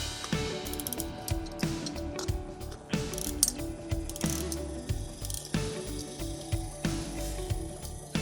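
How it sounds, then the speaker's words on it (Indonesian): An Assmann psychrometer's fan is wound with a key, giving a steady run of close ratcheting clicks and gear rattle in repeated winding strokes, with no talk over it. "Jika sudah, maka selanjutnya kita putar kipas dalam alat ini menggunakan kunci yang ini."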